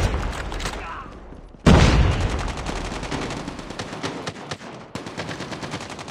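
Gunfire from the video game Call of Duty, dense rapid bursts of automatic shots hammering close and loud after a brief quieter stretch, with a heavy blast marking the start of the barrage.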